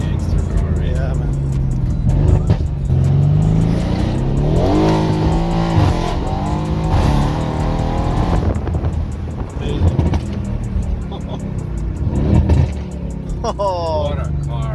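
A Mercedes-AMG C63S W205 drifts with its engine revving loudly and pitch sweeping up and down, tires squealing nearby, while people talk and react throughout.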